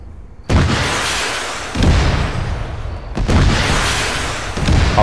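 In the Arma video game, heavy weapon fire strikes an enemy T90 tank, with three or four loud, close booming blasts whose rumbling tails fill the gaps between them.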